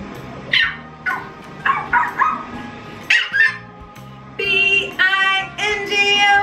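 Dog barking and yipping in short bursts, several barks spaced apart then a cluster of higher whining yelps near the end, fairly close.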